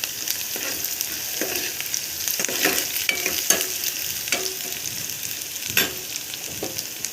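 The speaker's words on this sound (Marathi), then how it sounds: "बघा, आता पॅनमध्ये तेल टाकलेलं आहे, तर यामध्ये कांदा टाकूया।" Onion, garlic and cumin frying in hot oil in a pan, a steady soft sizzle broken by repeated scraping stirs and occasional sharper crackles, close and moderately quiet.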